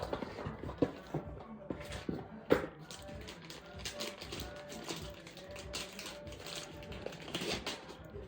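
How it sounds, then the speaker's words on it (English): Typing on a Higround mechanical keyboard gives quiet, irregular tactile clicks and taps that are close but faint, with one sharper keystroke standing out among the stream. "This keyboard is mechanical. You can hear the tactile feedback,"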